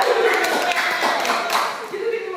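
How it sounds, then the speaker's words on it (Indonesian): Classroom of students clapping for Dea, a second-place winner, a brief patter of hands that stays steady for a couple of seconds with voices mixed in. "kasih tepuk tangan buat Dea."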